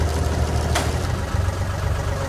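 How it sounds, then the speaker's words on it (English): Military-grade Deutz engine on a 1996 Grove MZ48B 48-foot lift runs at a steady idle, a low even hum close by with a single brief click in the middle. "He put another military-grade Deutsch engine in it. It runs real good."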